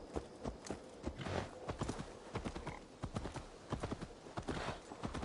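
Horse hooves clip-clop at a brisk, uneven gait in Assassin's Creed Valhalla, a dense series of close, sharp hoof strikes on the ground that repeats throughout.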